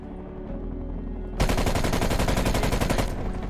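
Rapid automatic gunfire in a first-person shooter video game erupts loudly after a quieter stretch of low game ambience, a dense, continuous burst of shots lasting a couple of seconds.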